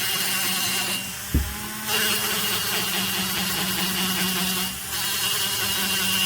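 A rotary tool with sandpaper grinds the exhaust port of an Echo 670 chainsaw, a steady close high whine with slight dips in pitch as pressure shifts and one brief knock.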